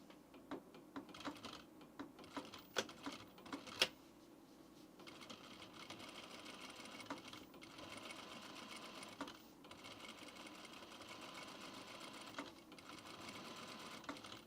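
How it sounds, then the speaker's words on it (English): A sewing machine stitches in the ditch along the seam of men's pants with a fast, steady mechanical chatter. Quick clicks sound at the start, then a continuous run of stitching plays close up with no voices. "we will sew through just that bottom opening, like stitch in the ditch"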